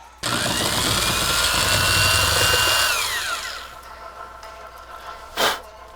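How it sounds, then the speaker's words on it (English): A power drill whines loudly as it bores through a plastic flower pot for about three seconds, then winds down, followed by a brief scraping rustle. "Drilling through plastic is pretty easy"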